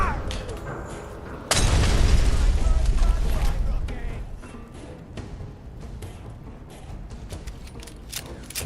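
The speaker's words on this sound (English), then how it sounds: "Did he just grenade himself?" A grenade goes off in Fallout 4 with the Sim Settlements 2 mod, a sudden loud boom followed by a long rumbling decay over game background noise, with a voice faintly present nearby.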